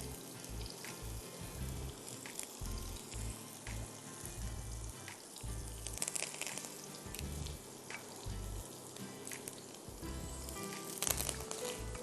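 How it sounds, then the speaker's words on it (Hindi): Curry leaves dropped into hot Shahtaj cooking oil with onions already in the pan, giving a steady broadband hiss and crackle, with a low background hum and a few brief clatters throughout. "जैसे ही शाहताज कुकिंग ऑयल गर्म हो जाए, फिर आप इसमें कड़ी पत्ते डालिए"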